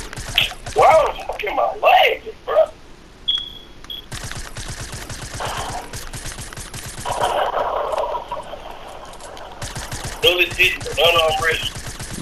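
Automatic gunfire in the video game Fortnite, a long, dense rattle of rapid shots running under and between excited voices talking during a squads match.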